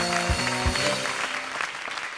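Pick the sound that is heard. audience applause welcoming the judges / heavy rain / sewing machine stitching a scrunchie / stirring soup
audience applause welcoming the judges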